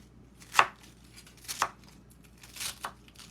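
Knife chopping salad ingredients on a board, three or four distinct crisp cuts spaced about a second apart, close and clear against a quiet background.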